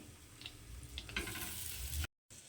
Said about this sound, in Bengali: এইভাবেই এটাকে আবারও ভেজে নেব পাঁচ মিনিট